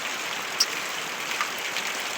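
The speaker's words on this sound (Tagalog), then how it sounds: "unang ulan guys" Night rain falls steadily in a soft, even hiss, with a couple of faint drips standing out; no voices.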